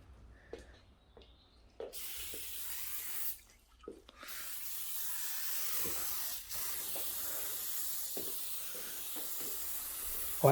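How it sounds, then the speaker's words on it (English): Bursts of hissing spray start and stop, then settle into a long continuous spray, with small clicks and knocks scattered throughout. "The spraying begins."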